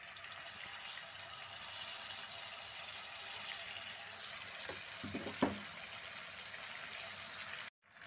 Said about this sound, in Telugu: చింతపండు కొంచెం గుజ్జు మరిగిందండి